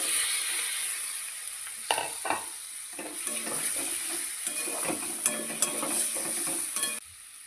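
Eggs frying in a pan of spiced masala for egg curry, with steady sizzling throughout and scattered scrapes and clinks of stirring, close and fairly loud, ending abruptly.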